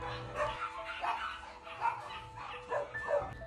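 Stray dogs or puppies at a dirty shelter cage bark and whimper in a run of short yips and whines, close and fairly loud, with no talk.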